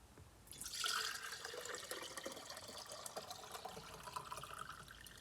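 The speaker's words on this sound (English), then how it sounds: "we're gonna start pouring the liquid out of this" Liquid from a jar of homemade hot sauce pours out in a steady, splashy stream at close range, starting abruptly and continuing without pause, with no talking.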